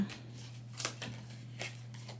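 Tarot cards are shuffled and drawn in several soft, quick riffling bursts over a faint steady hum, close by and quiet, with no voices.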